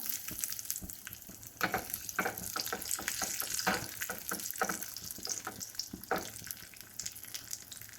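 Raisins and cashews frying in ghee in a pan for tender coconut payasam, giving a crackling sizzle broken by sharp pops and stirring scrapes, close and fairly loud, with no talking.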